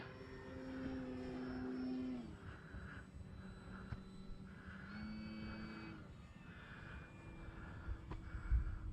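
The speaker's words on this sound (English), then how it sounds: "Man, that is just one beautiful plane." FMS Pitts 1400mm RC model biplane droning overhead, its propeller engine whine rising and falling faintly at a distance as it flies passes, steady and alone.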